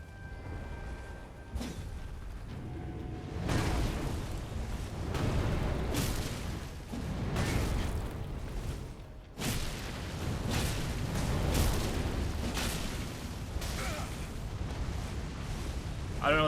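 Fire and explosive blasts in the video game Elden Ring, a series of heavy roaring bursts and booms that swell and fade one after another at loud, close range.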